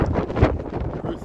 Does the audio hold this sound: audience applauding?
no